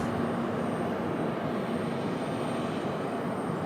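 A Delta airliner, Delta flight 1518 from Atlanta, taking off at Raleigh Durham airport, heard as a steady broadband jet engine roar with no clear rise or fall, moderately loud and far off, with no one talking.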